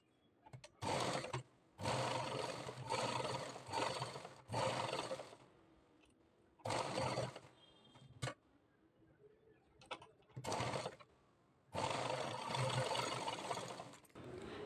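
A sewing machine stitching piping onto blouse fabric, running in repeated bursts of steady mechanical whirring separated by short pauses, loud and close with no talk.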